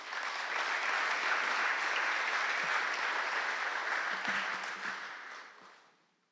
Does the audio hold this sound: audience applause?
yes